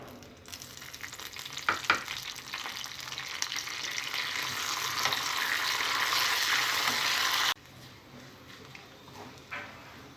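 Garlic, dried red chillies and curry leaves crackle and sizzle in hot oil as a tempering for raw tamarind chutney, close up, growing louder before abruptly dropping to a softer fry.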